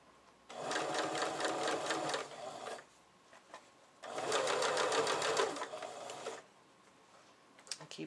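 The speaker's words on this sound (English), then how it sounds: "Keep sewing." A sewing machine stitches in two sustained runs of steady mechanical whirring, each about two seconds long and separated by a quiet pause, with a few faint clicks at the end.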